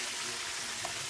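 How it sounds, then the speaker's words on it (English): Steady, soft sizzling of chicken frying in a pan, a continuous crackly hiss with no voices. "While our chicken is frying"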